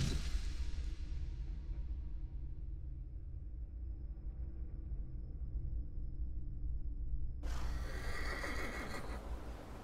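A horse in The Thaumaturge video game gives a loud, clear whinny at the start, trailing off into a low steady rumble, then a burst of bright rustling movement near the end.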